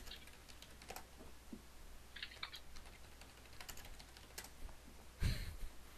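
Quick bursts of typing on a computer keyboard during an online drawing game, light clicky keystrokes in short clusters, close and fairly soft, with a louder thump near the end and no speech.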